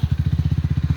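A motorcycle engine idles close by with a steady, rapid pulsing throb, parked at Chapakharka.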